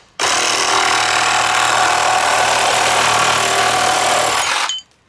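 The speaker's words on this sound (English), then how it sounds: "I'm going to cut that right about there with this new one here" Snap Fresh 20 volt cordless reciprocating saw cutting through steel, a loud continuous buzzing roar that starts abruptly, holds steady for about four and a half seconds, then cuts off, with no talking.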